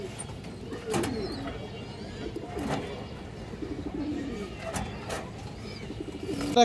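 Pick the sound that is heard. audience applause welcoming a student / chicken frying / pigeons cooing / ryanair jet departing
pigeons cooing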